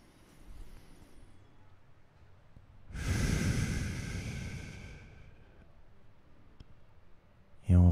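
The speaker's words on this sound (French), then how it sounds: "Inspiration par le nez, expiration par la bouche." During a guided yoga nidra relaxation, someone takes a slow deep breath in through the nose and lets out one long, airy exhale through the mouth, close and alone in a quiet room.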